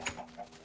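A Minecraft chicken gives a few short, soft clucks in quick succession, faint and alone.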